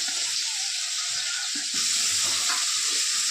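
Chowmein sizzling in a hot pan, a steady bright hiss of frying with small bursts of stirring and clatter, close and loud.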